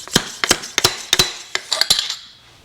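A motorcycle fork seal being tapped down over the fork tube with a seal installer tool on an Indian/Harley front suspension, giving about ten sharp metallic clinks in an uneven rhythm, close and fairly loud with no talk.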